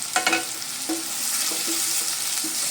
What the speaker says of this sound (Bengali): ভালো করে তেলে আমি ভেজে নিচ্ছি।